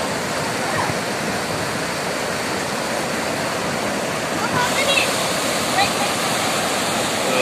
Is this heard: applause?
no